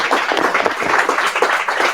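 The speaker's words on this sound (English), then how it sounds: "another round of applause for Oliver and David, please" Audience clapping at a green tech open source talk, a steady dense patter of many hands for two seconds, fairly loud and without voices.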